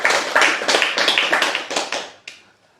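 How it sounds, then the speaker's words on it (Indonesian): A short burst of audience applause at a religious talk, a quick run of sharp claps that swells then fades out within about two seconds, heard alone. "Tepuk tangan untuk kalian."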